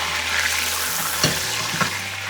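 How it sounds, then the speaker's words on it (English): Venison shoulder browning in sizzling olive oil, a steady broadband frying hiss throughout with a couple of brief clacks or stirs partway through, no talking. "See, the olive oil is sizzling nicely."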